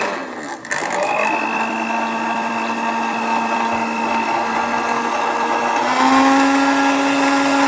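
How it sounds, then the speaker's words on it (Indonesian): A Philips HR2115 blender running after a motor repair, a steady loud motor whine that holds constant for several seconds and rises slightly in pitch near the end. "cara modifikasi mesin dinamo blender"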